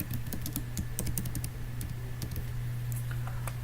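Rapid, steady keystrokes clatter on a computer keyboard, close and clear over a low constant hum.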